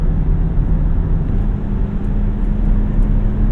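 A 2001 Toyota Camry LE accelerating in third gear, a steady droning engine hum with a constant low tone, heard from inside the car with road rumble underneath.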